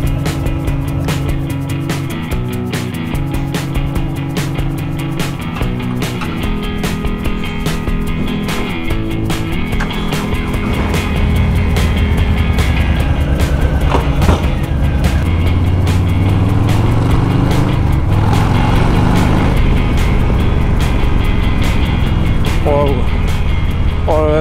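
A Harley-Davidson XGR 1300 motorcycle runs on the road, its engine droning steadily and then swelling louder with rising and falling revs, while a rider talks over the machine.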